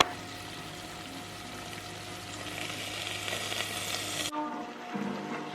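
Pasta and pasta sauce cook in a pan with a steady bubbling sizzle and gentle stirring under a low kitchen hum, ending in a sudden drop to a quieter simmer near the end.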